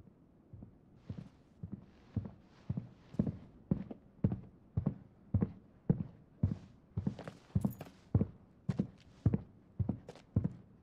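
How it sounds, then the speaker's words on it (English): Horse hooves clip-clop at a steady walking pace in Final Fantasy XVI, a long run of evenly spaced, close, moderately loud hoofbeats with no talk over them. "tá vindo de cavalo"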